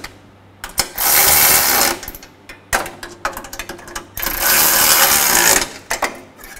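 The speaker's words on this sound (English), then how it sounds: "Go ahead and tighten down your triangle gasket nuts." Exhaust manifold gasket nuts on a 2012-2016 Subaru Impreza are run down with a power tool in loud buzzing bursts, several of them separated by short pauses and clicks.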